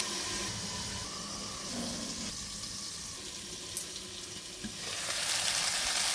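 Cauliflower frying under a lid over a high flame, a steady broadband sizzle holding throughout, with a small clink near the end and the hiss swelling louder in the last second.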